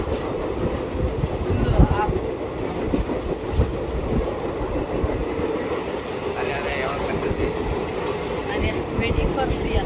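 A passenger train carries riders along, heard from inside the carriage as a constant loud rumble with rhythmic rail clatter and a faint murmur of voices beneath.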